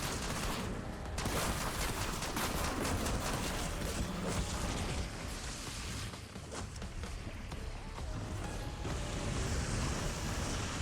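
Continuous dense gunfire and battle noise from the Terminus zombies video game, a loud sustained barrage of rapid shots blended with rumbling effects throughout.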